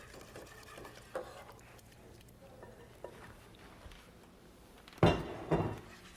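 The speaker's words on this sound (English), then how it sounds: "And just whisk it, and it will start to thicken." A whisk works a mixture into hot liquid in a pan, making faint, quick metallic taps and clinks through most of the stretch, then a couple of louder scraping strokes near the end.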